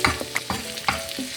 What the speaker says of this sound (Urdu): صرف مکس کریں گے۔